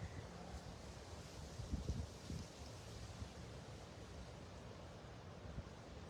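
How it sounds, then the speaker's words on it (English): Gusty wind blows through an apple orchard at Riveridge Farms in Sparta, Michigan, as a broad, steady rush with low buffeting against the microphone and no voices. "bear with us with the wind a little bit. Hopefully it doesn't affect the quality of the sound too much"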